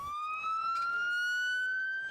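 Several ambulances arrive at the scene of a traffic accident, their siren a steady wailing tone that rises slowly in pitch and carries on loudly without a break, with faint road noise underneath.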